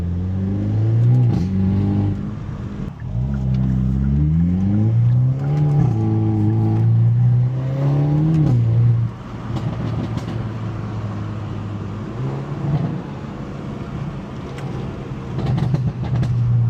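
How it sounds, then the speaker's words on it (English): A stock car with its resonator removed revs on a cold day, its exhaust climbing in several loud, close sweeps before dropping back to a rumbling idle, then blipping again near the end. "So you might be able to hear some exhaust sounds here"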